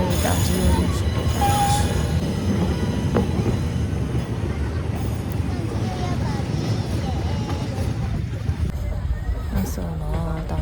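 A passenger train pulls into Taunggyi station in Myanmar, its steady rumble and wheel noise loud and continuous throughout, with a crowd's murmur and voices mixed in.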